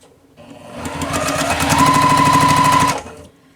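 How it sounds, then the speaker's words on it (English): A sewing machine stitches quilt block pieces together in a steady, fast run of needle strokes. It starts up, hums at a constant pace for a couple of seconds and then stops, close and clear with no talking. "So I think what I'm going to do is just go ahead and sew this new section together."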